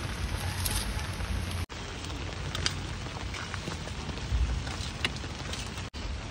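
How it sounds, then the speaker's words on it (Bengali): Heavy rain falls steadily outdoors, a dense close hiss of drops on surfaces with a few louder spatters and brief dropouts, and no voices. "বৃষ্টি পড়ছে খুব, বাইরে খুব বৃষ্টি হচ্ছে।"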